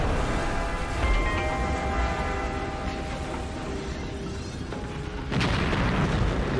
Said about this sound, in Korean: 리모컨으로 폭발시켰던 것이죠